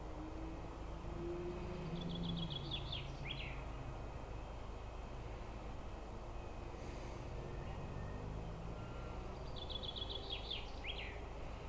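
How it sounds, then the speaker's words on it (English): A bird sings in a nearby tree, giving two short bursts of quick, bright chirped notes several seconds apart over a faint, steady outdoor background. "Just in the tree, just in front of me, there's a bird singing."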